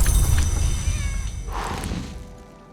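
A cat meows in the video game Book of Hours: one short mewing call rises midway over a steady low ambient game background, with no speech.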